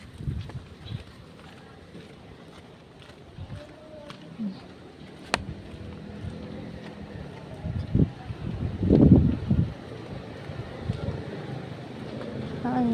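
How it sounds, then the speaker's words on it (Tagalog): Outdoor wind while walking with an umbrella, buffeting the microphone as low, uneven rumbles that build into a stronger gust partway through, with light footsteps and faint ambient noise underneath. "Ayan ang hangin."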